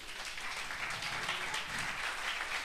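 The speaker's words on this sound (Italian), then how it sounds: "vorrei un applauso forte, ma veramente forte, per gli artisti" Audience applause for the artists at an Academy TV Fuego Latino dance and song show, steady dense clapping from a crowd, moderately distant and continuous throughout.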